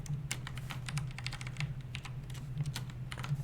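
Steady run of computer keyboard keystrokes at an irregular typing rhythm, close and fairly loud, over a constant low hum, during a spring 2019 art workshop on shaders and sprite effects.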